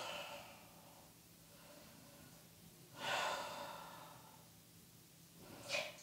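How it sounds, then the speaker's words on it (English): A deep, full breath during a yoga Moon Salutation: a slow, soft inhale early on, then a louder, breathy exhale around the middle and a short sharp one near the end, close and quiet with no talk. "Deep full breath."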